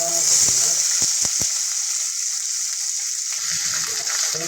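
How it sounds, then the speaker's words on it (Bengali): About 200 grams of onions fry in hot oil with whole garam masala for chicken masala, producing a loud, constant bright sizzle up close with a few brief stirring knocks. "পেঁয়াজটাকে আমরা ভালো করে ফ্রাই করে নেবো।"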